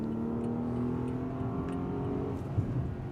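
A Rolls-Royce Cullinan Series II cruises in traffic over a louder road surface, giving a steady, moderate tire and road roar with a low engine hum and no voices.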